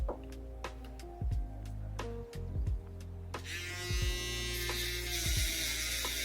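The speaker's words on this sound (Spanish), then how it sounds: "para que la afeitadora afeite mejor" Electric clippers buzz steadily while shaving a buzz cut with a scissor fade, a close mechanical hum with brief dips and clicks as the blade moves in circular strokes, growing brighter and rougher toward the end.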